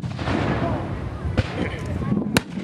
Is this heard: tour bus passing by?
no